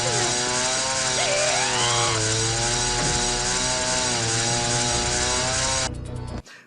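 A chainsaw in the video game Shenmue II roars loud and continuous, its engine pitch rising and wavering for several seconds before it cuts off abruptly.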